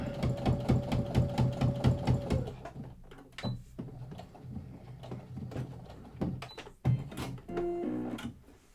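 A sewing machine stitches across the top of a onesie placket in a short rhythmic burst of close pulses, followed by scattered handling clicks and knocks as the fabric is moved.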